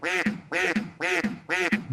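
Four loud, nasal duck quacks in an even rhythm, each a short raspy call with a trailing note, close and clear with no talk.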